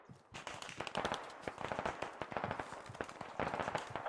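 Distant gunfire in the SquadOps military game: scattered sharp cracks and short rapid bursts, faint and far away, trading back and forth over about four seconds with no talk.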